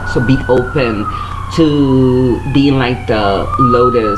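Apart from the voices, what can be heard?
emergency vehicle sirens in the background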